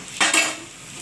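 Brief scrape of a spoon stirring daliya khichuri with vegetables and spices in a pan, a soft quick rasp over a faint sizzle, close and alone.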